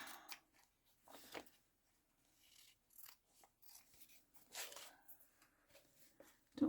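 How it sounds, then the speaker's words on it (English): Scissors snipping paper for a junk journal, a few short, close crisp cuts separated by quiet pauses, faint and sparse. "I think I'm going to cut this part off."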